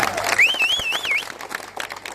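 A crowd at a political rally in Gingee applauds in a brief, dense burst, with a sharp warbling whistle rising above the clapping.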